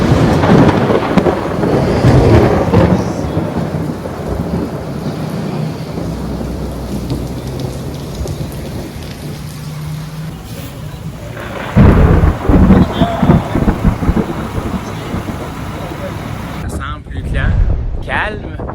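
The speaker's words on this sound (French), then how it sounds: "Tonnerre encore." A thunderstorm brings loud rolling thunder and rain pouring over a surface. The rumbles rise and fall over about twenty seconds, with a sharp burst partway through.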